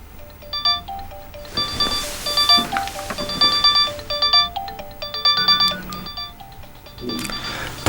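A phone rings in an office with a bright, melodic electronic ringtone. The jingling tune repeats in quick rising and falling phrases, loud and close, with no talk over it.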